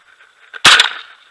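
A single loud, sharp shotgun blast fires close by during an outdoor dove hunt, preceded by a faint rustle and trailed by a brief echo.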